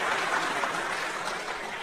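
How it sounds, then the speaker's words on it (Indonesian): A church congregation at an evangelistic revival service gives a short round of steady, dense applause at moderate loudness, with no voices standing out. "Tepuk tangan dong buat mantap."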